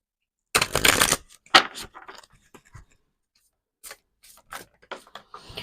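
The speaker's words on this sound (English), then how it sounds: "I've shuffled these all different manners of ways" Oracle cards shuffled by hand in a few quick riffling bursts, loudest at the start, then scattered softer rustles and taps close by.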